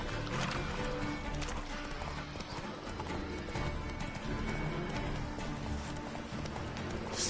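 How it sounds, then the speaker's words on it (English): Steady, rapid hoofbeats of a galloping horse in The Witcher 3: The Wild Hunt, continuous and fairly loud, mixed with game ambience and no clear talk. "Whoa there, Roach."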